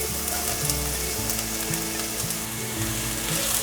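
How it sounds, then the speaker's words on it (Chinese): Shiitake mushrooms and carrot stir-fried quickly in a wok with ginger, a loud, dense, steady sizzle that runs continuously from start to finish with no voices. "快速的翻炒"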